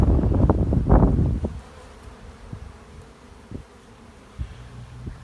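Honeybees on orientation flights around a busy hive buzz loudly close by for the first moments, then drop to a quieter hum with scattered brief passes of individual bees near the microphone.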